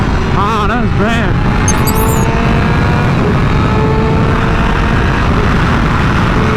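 A Yamaha R6 motorcycle engine revving during wheelies, a loud close buzzing drone with wavering pitch swings early on, continuing steadily under wind noise.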